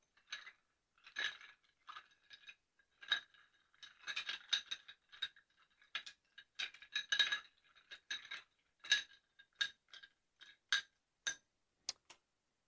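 A bar spoon stirring a caipirinha with rum in a glass, giving repeated light metallic clinks and rattles against glass and ice in an irregular rhythm, close and fairly quiet with brief pauses.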